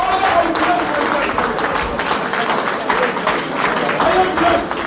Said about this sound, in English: Can you clap your hands and pray?